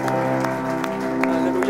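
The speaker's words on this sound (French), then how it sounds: "Est-ce qu'on peut applaudir le Seigneur ce matin?" A church congregation applauds during a French-language worship service, a steady wash of clapping with a sustained musical tone underneath and a few louder claps standing out.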